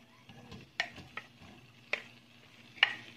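Onion sautéing in oil in a frying pan gives a faint, steady sizzle, with a few sharp clicks of a utensil against the pan at intervals.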